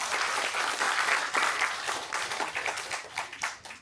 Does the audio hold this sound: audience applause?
yes